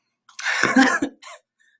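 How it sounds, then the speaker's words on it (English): A single rough cough burst, followed by a short second cough, close by with no other sound. "I still have a little bit of a cough too."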